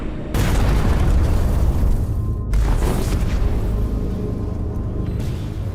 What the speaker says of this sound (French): ils entendent une explosion